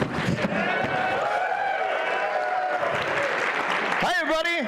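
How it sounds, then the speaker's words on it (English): An audience at a SAINTCON 2023 conference session breaks into dense, sustained applause that fills the room, with voices and a shout rising over the clapping. "I want clap."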